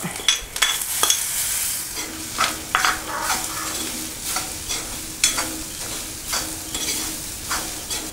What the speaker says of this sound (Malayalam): ചിരവി വെച്ചിരിക്കുന്ന തേങ്ങയും മുളക് പൊടി, മഞ്ഞൾപ്പൊടി, മല്ലിപ്പൊടി, ചെറിയുള്ളി എന്നിവ ചേർത്ത് വറുത്തെടുക്കാം